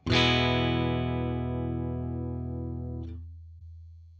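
Axe-FX III guitar amp modeler tone with dynamic distortion switched off: a single strummed chord rings out loud and sustained, decaying slowly over about three seconds before being muted.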